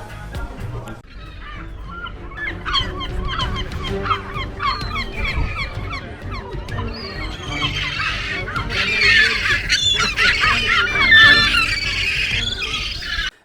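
Seagulls call at the Baltic seaside in Ustka, with a busy chorus of squawks and cries that grows louder and denser toward the end over low background noise.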